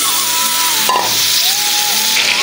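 Chopped tomato dropped into a pan of spices frying in oil, a loud continuous sizzle with a brief bump as the tomato goes in, close and without talk.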